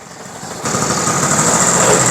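ETON Sierra 90 ATV engine running after a kick start, a small high-pitched motor that grows louder and settles into a steady, close buzzing idle with a thin whine on top, no voices.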